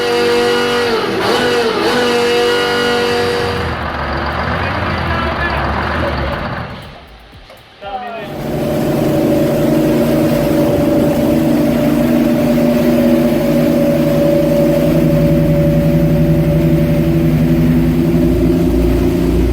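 An old Detroit Diesel 6V53 engine starts up: a rough running note drops away briefly, then the engine catches and settles into a loud, steady, droning idle that carries on to the end.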